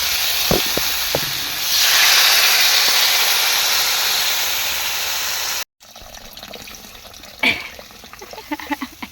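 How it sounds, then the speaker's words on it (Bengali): Water poured into a pot of lentil dal with bottle gourd, a steady close hiss of falling water swelling and lasting several seconds, then a break followed by quieter clinks and kitchen handling. "জল দিয়ে দেবো"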